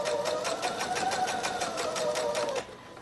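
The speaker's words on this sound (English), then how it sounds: "just keep on sewing this funny little seam." A sewing machine stitches a curved seam in fabric, running close and steady with rapid even needle clatter for a few seconds before stopping abruptly.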